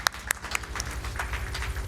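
A small audience at a speedrun marathon event for Grand Theft Auto III gives scattered, sparse claps over a steady background of game sound, fairly faint and brief.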